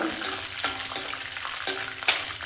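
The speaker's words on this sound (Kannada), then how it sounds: "ನೋಡಿ, ಕಡಲೆ ಬೀಜ ಮತ್ತು ಗೋಡಂಬಿ ಚೆನ್ನಾಗಿ ಹುರಿದಿದೆ" Peanuts and cashews frying in a pan for vermicelli bhath, a steady oil sizzle with several sharp scraping stirs of a spatula, close and fairly loud, no voices.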